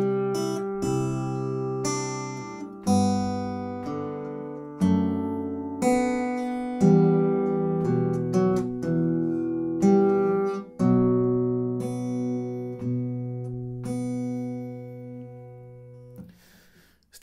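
A guitar plays a clear, unaccompanied phrase of the Danish song 'Solen er så rød, mor', bars five through eight. It moves through a steady series of plucked notes that each ring and decay before the next, and no one speaks.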